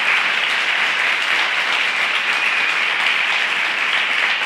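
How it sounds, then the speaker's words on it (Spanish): A church congregation of about a hundred people applauding loudly during a sermon, a continuous, even wash of many hands clapping that holds steady throughout without a break. "apláudele a él, no le aplaudas a nadie más."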